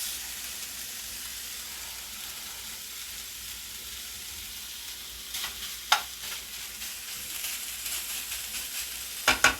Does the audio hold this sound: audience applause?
no